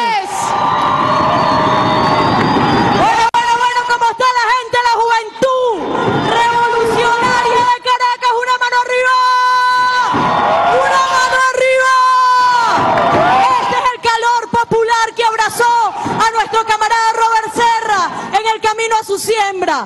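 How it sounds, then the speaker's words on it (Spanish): A large outdoor crowd at a Venezuelan march against terrorism cheers and shouts in loud, continuous waves, with voices chanting and calling out over the noise. "Pido para nuestra compañera, nuestra hermana de lucha, un fuerte aplauso"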